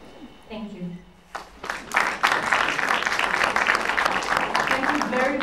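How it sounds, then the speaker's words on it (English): Applause swells from a room of people at an education panel event, steady clapping rising after a brief lull and continuing strongly to the end, with some talk at the start. "Another round of applause for her, please."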